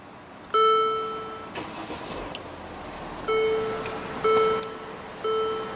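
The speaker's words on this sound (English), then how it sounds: "Just put your foot on the brake, hit the button to start." A 2015 Mercedes-Benz GL350 diesel V6 starts from its push button: several clear electronic chimes and beeps sound inside the cabin around a brief cranking whoosh as the engine catches, then a low idle continues beneath the tones.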